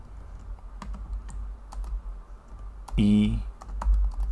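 Steady light clicking of a computer keyboard as Java code is typed, close and continuous, with a brief tonal beep partway through over a low background hum.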